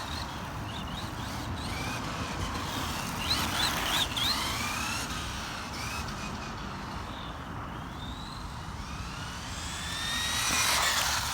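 An RC car fitted with a Tamiya Super Modified 11t motor and running on NiMH drives about, its motor whining in rising and falling pitch sweeps over a rough, rumbling background.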